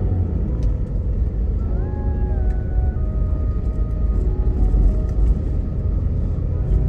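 Heavy road traffic near the Cubao tunnel in Manila: a steady low rumble of many cars and engines close by, with a brief whining tone and occasional brake hiss, no voices over it.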